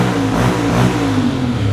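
A big motorcycle with a long exhaust revs loudly up close, a throaty engine roar rising and falling over a brief burst with no talking.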